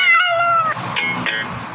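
A cat lets out a loud, drawn-out meow nearby, followed by a couple of shorter, rougher calls.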